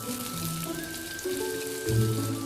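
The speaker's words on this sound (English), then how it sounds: "Add a little oil to the clay pot. Then add the sliced onions. Stir fry until fragrant." Sliced onions stir-frying in a little oil inside a clay pot, a steady close sizzle and crackle with soft scraping from stirring, swelling slightly louder near the end.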